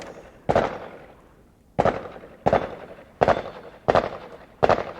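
An American Derringer BTJ DA .38 Special pistol fires five sharp, loud shots at irregular intervals outdoors, each crack followed by a short decaying echo.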